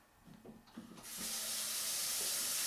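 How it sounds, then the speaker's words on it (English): A kitchen sink tap is turned on to its hottest setting and runs in a steady, close, loud rush of water after a few soft handling knocks, continuing unbroken to the end. "Just turn the water on the hottest temperature."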